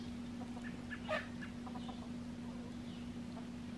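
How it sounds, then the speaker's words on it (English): Chickens clucking softly in short bursts, with a steady low electrical hum running underneath throughout. "The chickens are gonna eat your grain."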